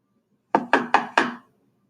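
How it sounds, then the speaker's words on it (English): Four firm knocks on a gate, evenly spaced and loud, each with a short wooden ring, alone with no talk. "What's he that knocks as he would beat down the gate?"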